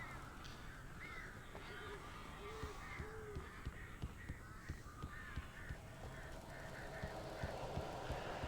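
Crows caw several times in the Alan Wake video game, their harsh calls spaced irregularly over a constant low rumbling ambience, fairly faint and somewhat distant.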